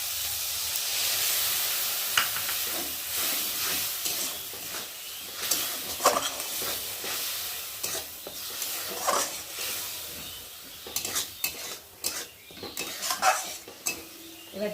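Tomato with mustard paste frying in a pan, a soft sizzle under repeated scraping and stirring strokes of a utensil against the metal, with intermittent clinks.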